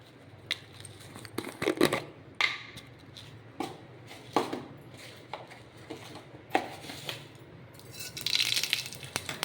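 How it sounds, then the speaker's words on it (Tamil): Mustard seeds go into hot oil in a kadai while cooking wheat rava pongal, crackling and popping in sharp scattered bursts, close and fairly quiet, with busier sizzling near the end. "கடுகு போட்டுக்கலாம்"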